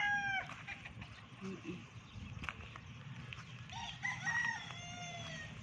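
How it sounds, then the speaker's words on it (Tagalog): Faint chickens clucking and calling at a distance over a soft, steady outdoor background hiss. "Lapitan natin yung mga manok na ito."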